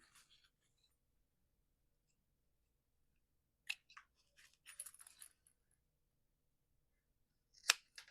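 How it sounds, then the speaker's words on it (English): Scissors snip fabric zipper tabs at a sewing class, a few quiet isolated cuts and small clicks scattered across a near-silent room, with a sharper snip toward the end. "you can go ahead and you can trim the zipper tabs up to line up with the sides"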